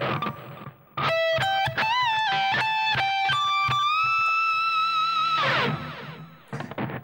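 Distorted electric guitar plays a lead phrase from a song's solo, with quick picked notes and vibrato bends rising to a long sustained high note, loud and close, ending in a noisy strum.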